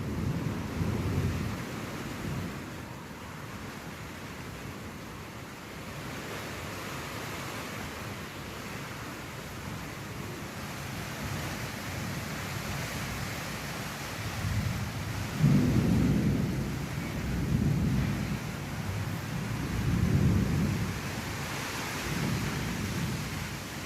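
Heavy storm with strong wind and rain outside a hotel, a steady broad roar of downpour and gusts with deep thunder rumbles swelling in the latter half.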